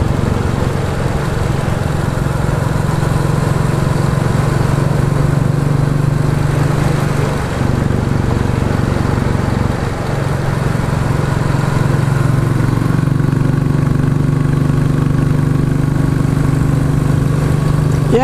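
Royal Enfield Classic 350 motorcycle fitted with a de-cat exhaust pipe, a steady thumping single-cylinder drone that stays close and loud throughout, with brief dips midway, and no voices.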